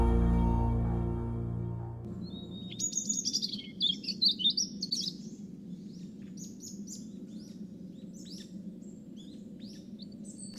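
Birds chirp and tweet in a summer forest. A burst of quick, bright calls comes after a few seconds, following a low tonal hum, then fades into steady background noise.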